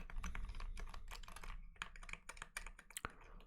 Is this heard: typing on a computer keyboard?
yes